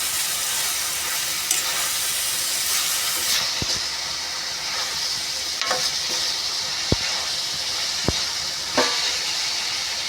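Masala with round brinjal and flat beans cooks in a pan, giving a continuous hissing sizzle close by, broken by a few sharp clicks and scrapes of stirring.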